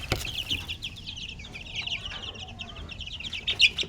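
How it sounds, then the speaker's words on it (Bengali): Twenty-day-old farm chicks in a rearing pen give faint, rapid high peeps and chirps, overlapping continuously with a few louder calls near the end. "এগুলো হচ্ছে ফার্মি মুরগির বাচ্চা"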